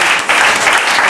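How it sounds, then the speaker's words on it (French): Dense, steady applause from a church congregation, a sustained wash of clapping with a brief dip near the start and no clear voices on top. "Applaudissez à Jésus"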